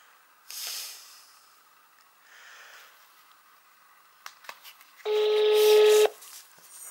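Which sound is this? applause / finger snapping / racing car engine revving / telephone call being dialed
telephone call being dialed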